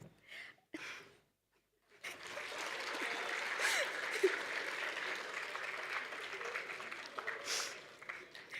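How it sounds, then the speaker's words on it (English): Applause from a graduation audience for the parents, starting after a near-silent pause and holding as a steady, moderately loud patter of many hands until the end, with a hint of voices underneath. "please applaud yourselves"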